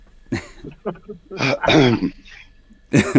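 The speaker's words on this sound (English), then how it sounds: "Clearing his throat." Someone clears their throat in several rough, gravelly bursts separated by short pauses, close and fairly loud.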